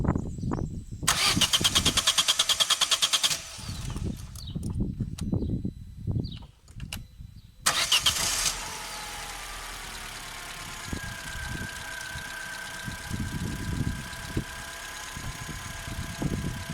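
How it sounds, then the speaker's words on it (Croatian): Cold start of an Opel Corsa 1.2 16V engine being fixed for a misfire: a few bursts of starter cranking with pauses, then the engine catches and settles into a steady, close idle with no talking. "idemo sad upaliti auto da vidite kako to izgleda, hladni start"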